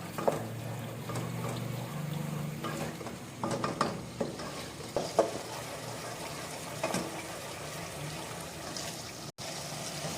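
Masala being stirred and fried in a pan for besan khandvi salan, a steady low sizzle with repeated scraping spoon strokes clustered in the middle, fairly quiet and close, with no talking.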